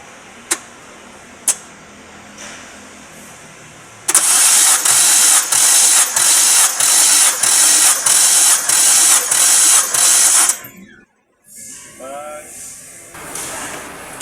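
An engine cranks over during a compression test in a long, even run of rhythmic pulses for several seconds, loud and close, then stops abruptly, followed by quieter mechanical noise.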